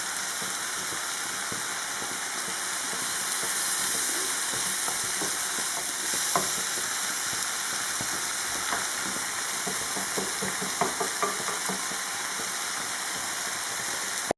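A spoon stirs a spinach and goat cheese filling in a hot pan, a soft continuous sizzle with scattered scraping and clicking of the utensil, no talk.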